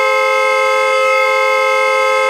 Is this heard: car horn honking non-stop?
yes